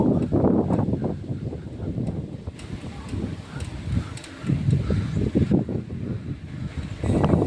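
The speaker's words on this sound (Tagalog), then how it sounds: "pero malakas pa rin ang hangin." Strong monsoon wind roars and buffets steadily against the microphone, with rustling of swaying trees and low rumbling throughout, loud and continuous for the whole stretch.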